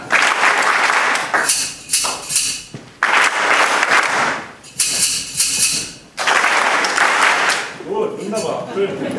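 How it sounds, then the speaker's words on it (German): An audience at a German stage show claps on cue in several loud bursts of applause separated by short pauses, with some talk around them. "Immer wenn, wenn ich die drehe, müssen Sie klatschen."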